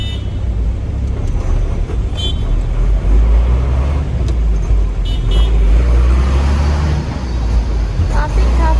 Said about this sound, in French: Quel beau trafic.